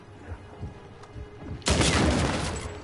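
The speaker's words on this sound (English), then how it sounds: "How can I forget about them when they're shooting at me?" Gunfire in the video game Uncharted 4: a few soft distant thumps, then a sudden loud burst of rapid shots that rolls on and fades slightly by the end.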